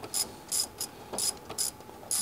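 Ratchet wrench tightening the idler pulley bolt on a Mercedes C300 W205 during an alternator change: several quick bursts of clicking pawl ratcheting, close and fairly loud, with brief pauses between strokes.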